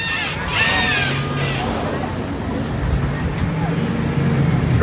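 A Boston amphibious duck tour boat enters the water with a broad rushing splash and engine wash that continue under wind noise, with voices in the background.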